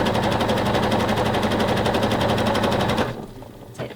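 A domestic sewing machine stitches stretchy elastic onto bra fabric in a steady, loud, rapid run for about three seconds, then stops abruptly, leaving faint handling sounds.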